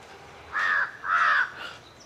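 Crow cawing outdoors in the morning, two loud harsh caws followed by a softer third, fairly close and heard alone.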